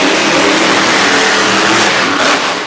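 A monster truck engine roars loud and steady as it accelerates flat-out on a dirt racing track in Brookville, Pennsylvania, a dense continuous blare that eases slightly at the end.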